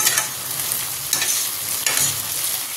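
Tomato goes into a pan of browned potato and onion, giving a loud, steady sizzle close by, with two sharper bursts as the pieces are stirred in.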